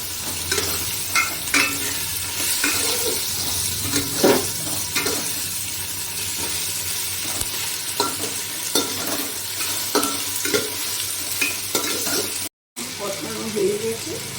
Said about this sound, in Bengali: আদা রসুন বাটা দিয়ে এর মধ্যে আমি এটা কষিয়ে নেব।